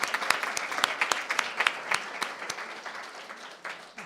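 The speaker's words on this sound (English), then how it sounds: "Let's give them a round of applause." Scattered, uneven applause from a small audience at a board of education work session, individual claps standing out near and distinct.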